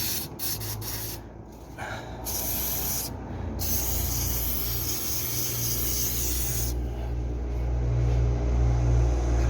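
Lubricant aerosol is sprayed onto the rubber bushes of a Hillman Superminx's leaf spring suspension, giving a loud, close hiss in several bursts and then one long continuous spray.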